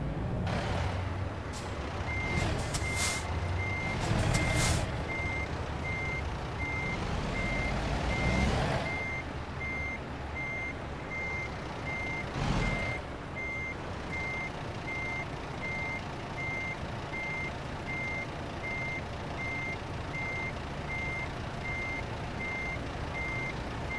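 A truck backing up with a trailer in American Truck Simulator, its reversing alarm beeping steadily for over twenty seconds under a low engine rumble, with a few hisses of air brakes early on.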